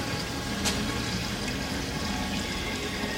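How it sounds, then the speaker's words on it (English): A mixture of diesel fluid and urea pours steadily into 5-gallon cans, a constant liquid rush and splash with no pauses, close and fairly loud. "pouring this mixture of diesel fluid and urea into some 5-gallon cans so we can dispose of it properly"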